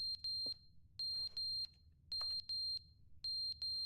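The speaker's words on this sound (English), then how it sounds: "Is that a fire alarm?" A fire alarm in the video game The Stanley Parable: Ultra Deluxe sounds in loud, piercing electronic beeps grouped in repeating bursts, with short gaps between groups and a faint background hum.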